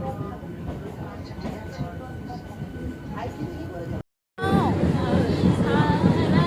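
A crowded local train near Bagnan rumbles steadily with rattling carriages and a murmur of passengers, while people talk nearby; a brief silent gap interrupts the sound before it resumes louder.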